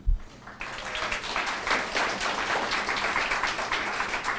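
An audience at an awards event applauds a school coach as her name is called, a steady wash of clapping that starts abruptly after a brief thump and continues evenly for several seconds.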